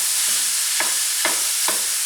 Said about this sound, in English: Yep, you can hear the sizzle.